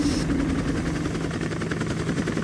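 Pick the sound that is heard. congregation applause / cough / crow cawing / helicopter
helicopter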